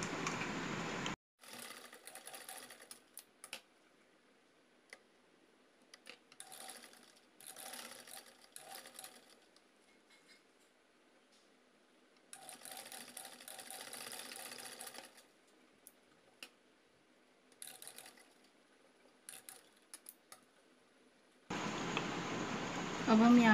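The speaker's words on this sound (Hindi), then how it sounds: "अभी यहाँ से हम प्रेस सिलाई लगाएंगे।" A sewing machine stitches a handmade purse in several bursts of quick, even mechanical whirring, stopping and starting between them. The bursts are moderately close, and a louder sound briefly opens and closes the stretch.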